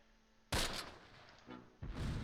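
Mortar fire in the Close Combat wartime strategy game: a sharp, loud blast followed by a rumbling decay and a second, smaller impact, with no voices.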